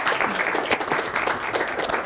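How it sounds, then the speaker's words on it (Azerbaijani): A studio audience on a talk show bursts into steady applause, many hands clapping close and fairly loud in a continuous patter for about two seconds. "bir alqışlar gəlsin"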